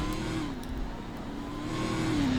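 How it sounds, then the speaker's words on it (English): A loud supercharged car engine in the Roblox game Greenville drones steadily while driving, its pitch dipping and then rising again near the end. "Overall, just driving this thing, it's actually pretty loud too."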